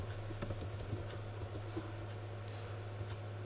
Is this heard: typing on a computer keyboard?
yes